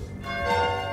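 Bells ring out at a castle-style attraction with a drawbridge, a steady sustained metallic tone swelling slightly, moderately loud with no talk over it.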